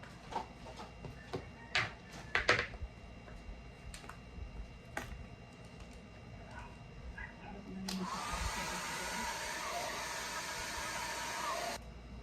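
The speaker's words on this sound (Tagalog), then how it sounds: "At tuyo muna tayo ng buhok." A handheld hair dryer dries hair. Small clicks and handling taps come first, then the dryer switches on with a loud, steady whoosh that runs about four seconds before cutting off.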